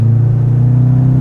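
Jaguar F-Type P300 sports car with its lighter four-cylinder engine, a loud, close, steady low rumble and drone held evenly throughout, no voices.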